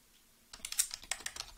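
Fast, light clicks of a computer keyboard tap out a quick burst of about a dozen keystrokes after a short quiet pause, close and clear with no talking.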